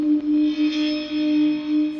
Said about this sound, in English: So I added a little bit of a wow to it. So it's sort of a little bit less pitch-centered and some distortion to it.